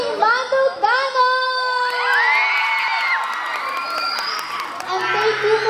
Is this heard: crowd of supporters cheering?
yes